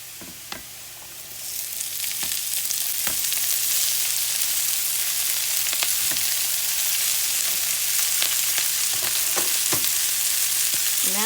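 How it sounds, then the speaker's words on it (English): Shredded cabbage tossed into a pan of frying onions, a soft clatter at first and then a loud, steady sizzle that holds close and constant with a few light scrapes and taps on top. "Now I'm just going to toss that cabbage in there with those onions."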